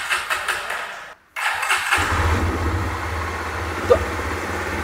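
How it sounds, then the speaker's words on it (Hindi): A 2024 Jawa 42 Bobber motorcycle is cranked, falls quiet for a moment, then fires up and settles into a close, steady, thumping idle with no talking. "तो चलिए फटाफट मैं इसका एग्जॉस्ट सुनाता हूँ कि इसकी इंजन का आवाज़ कैसा आपको देखने को मिलता है।"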